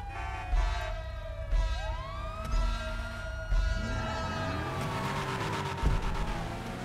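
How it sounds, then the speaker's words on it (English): A police car siren in GTA Online wails loudly and steadily, its rising and falling tones sweeping continuously alongside the hum of a racing car engine. "Is there a police car? Unmarked cruiser over there?"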